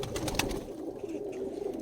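Domestic black-winged flying pigeons coo softly at a home loft, a brief low throaty burble close by over faint background noise.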